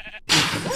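A pink sheep in the Minecraft movie teaser gives one loud, close bleat that starts after a brief pause and lasts under a second.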